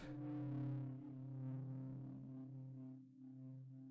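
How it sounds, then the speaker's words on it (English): A sustained, gritty distorted synth one-shot sample drones low and thick, swelling slightly with a short dip near the end, played alone without voices. "this sound is actually just a synth sound from this one shots pack I have"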